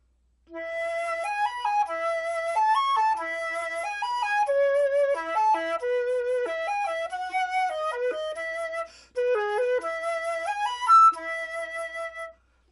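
A solo flute plays quick, lilting phrases of short notes grouped in a long-short skipping triplet feel, with a few brief pauses between phrases.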